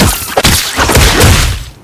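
A Spider-Man video game sticky E uppercut attack lands as a loud, dense burst of thudding impact and whooshing crash, lasting under two seconds before cutting off.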